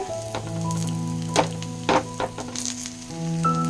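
Tomatoes fry in a pan with chilli, garlic, onion and urad dal, giving a steady sizzle with a few sharp spatula scrapes and stirring clicks over a low hum.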